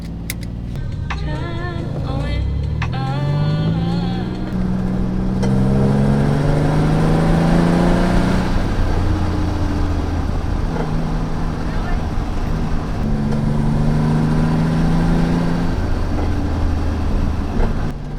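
A 1986 widebody Nissan 300ZX engine idles, then rises through several revs with climbing pitch, settles, and revs again, loud and close, while a person talks over parts of it.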